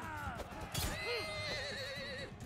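A horse whinnies in Mount & Blade II: Bannerlord during a tournament, a rising and falling neigh amid game combat sounds with someone talking over it.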